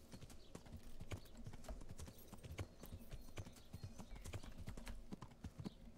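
Horse hooves clip-clop at a steady walking pace in the video game Kingdom Come: Deliverance, faint and continuous over soft ambient background, with no talking.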